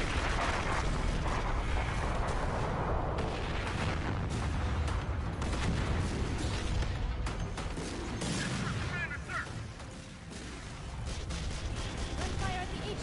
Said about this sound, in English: Gun fire at the HQ, Commander.